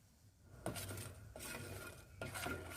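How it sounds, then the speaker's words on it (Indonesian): A spoon stirs a palm sugar and tapioca starch sauce in a pot, giving faint repeated scrapes and clinks at a slow, uneven rhythm. "Aduk sampai merata ya, guys."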